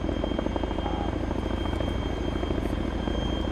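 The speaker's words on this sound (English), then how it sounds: "I think the helicopter's gonna explode." Helicopter flying in the video game Arma 3, a loud, steady rotor and engine drone that holds throughout with no talk.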